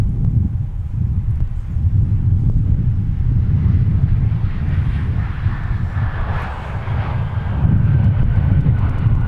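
A Delta airliner arriving from Nashville at Minneapolis–St. Paul Airport gives a loud, continuous low engine roar with broadband rumble and wind buffeting on the microphone, holding steady throughout.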